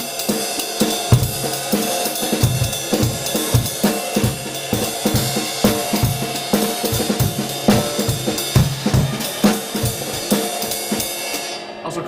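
Jazz swing played by a small band, busy swung drums with ride cymbal and walking low notes, steady and lively throughout with no talking.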